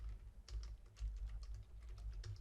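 Quick, irregular keystrokes clatter on a computer keyboard close by, a steady run of light clicks with short pauses.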